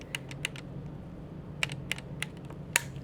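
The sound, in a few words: trigger pull on H&K SP5K pistol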